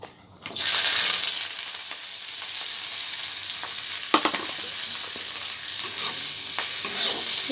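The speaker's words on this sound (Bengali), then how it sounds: "আমার তেলটা গরম হয়ে গেছে তো এবারে আমি দেখো এর মধ্যে আদা রসুন পেঁয়াজ কাঁচা লঙ্কা সব গ্রেট করে নিয়েছি এবারে এটাকে তেলে দেবো" Grated ginger, garlic, onion and green chili dropped into hot oil, bursting into a loud, bright sizzle that holds steady with a few stirring scrapes, close up and without speech.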